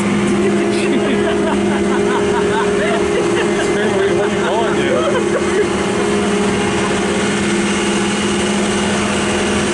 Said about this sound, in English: On a boat ride.